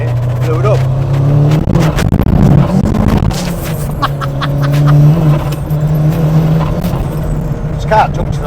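A 560bhp Ford Sierra Cosworth accelerates hard, its engine note climbing and surging loudly up close for several seconds under steady road noise, with people talking over it.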